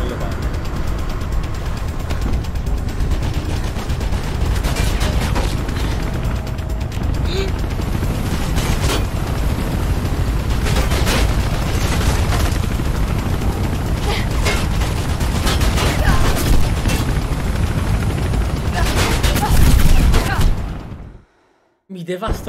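In Mirror's Edge, sustained rapid gunfire and ricocheting shots rattle continuously for about twenty seconds under game dialogue. The noise is loud and dense, then cuts off abruptly.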